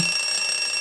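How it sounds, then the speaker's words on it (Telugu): A mobile phone alarm rings steadily and close, a bright, continuous electronic tone that carries unbroken for the whole brief moment with nobody speaking over it. "అలారం కొంచెం ఆఫ్ చేయవే"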